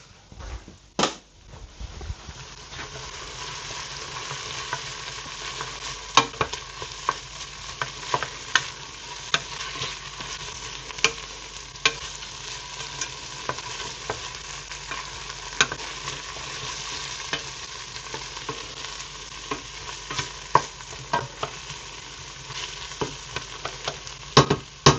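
Tomato paste fries in a pot with a steady close sizzle while a spoon stirs it, scraping and clinking in irregular strokes against the pot.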